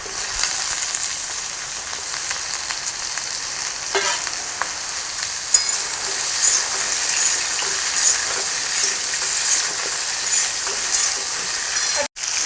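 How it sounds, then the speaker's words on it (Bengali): Chopped papaya and pointed gourd frying in a pan, a steady bright sizzle with occasional stirring scrapes, close and even throughout. "সবজিগুলো ভাজি"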